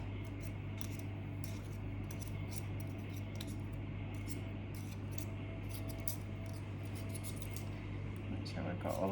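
A wooden spoon scrapes thick cookie dough out of a mixing bowl, making quiet, irregular scratchy strokes over a low steady hum.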